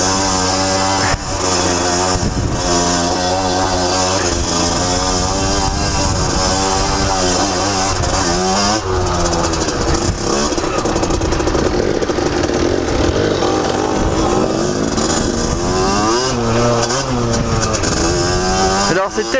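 A motorcycle engine being run in during break-in revs hard and continuously, loud and close, with rising and falling pitch sweeps as the throttle is worked.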